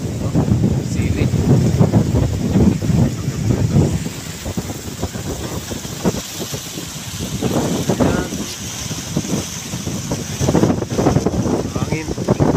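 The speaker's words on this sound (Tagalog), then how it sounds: "Hangin." Strong wind gusting through a vegetable garden with chili plants, a loud continuous roar buffeting the microphone that swells and eases in waves.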